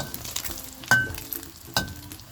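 A Thai omelette fries in hot oil, giving a faint, crackling sizzle with a couple of sharper clinks or scrapes from stirring, quiet and close with no speech.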